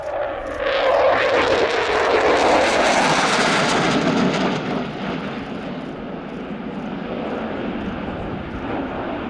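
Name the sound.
airplane passing at an air show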